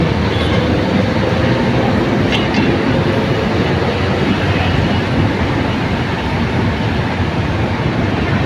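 A train passes close by in Parañaque with a loud, steady rumble and rattle of wagons that fills the whole stretch, and faint voices are barely audible beneath it.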